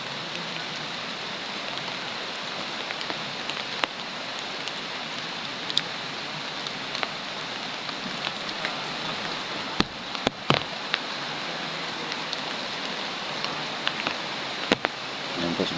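Rain pouring outdoors as an even, dense wash of patter, with occasional louder drips and taps close by, steady throughout and with no one speaking.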